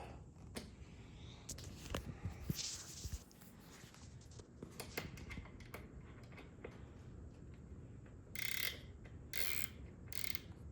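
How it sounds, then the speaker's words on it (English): A bolt is worked loose from the seat of a 2024 Harley-Davidson Road Glide. Close, faint ratcheting tool clicks and small metallic handling sounds repeat irregularly, with a few brief, brighter scrapes near the end. "Now we need to go ahead and remove the seat bolt."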